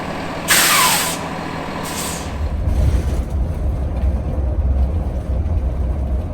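A motorhome's air brakes release a loud, sharp hiss twice in quick succession, followed by a steady low engine idle rumbling on alone.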